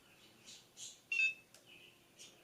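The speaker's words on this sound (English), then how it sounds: "pull it up to your hairline until it beeps." Faint short electronic beeps from a NuFACE Mini facial toning device sound in a quiet room, a few soft tones followed by one louder, clearer beep.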